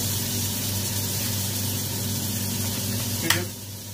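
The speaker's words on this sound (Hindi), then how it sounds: "इसको भूनते हैं 3 से 4 मिनट" Fish karahi masala fries in a pan with a steady, close hiss and sizzle, broken near the end by a short sharp scrape before the sizzle settles quieter.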